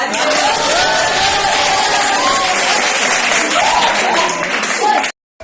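Loud, sustained applause from a large crowd with cheering voices mixed in, steady throughout before cutting off abruptly near the end.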